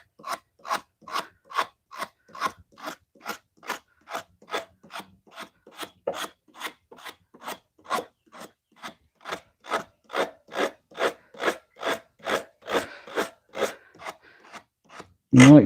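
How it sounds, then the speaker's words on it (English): Rhythmic hand sanding along the wood grain, steady back-and-forth rasping strokes repeating close up, about two per second, with no talking. "sanding in direction of the wood itself, how it's laid out"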